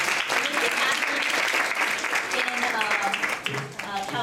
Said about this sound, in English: Can we have a warm round of applause for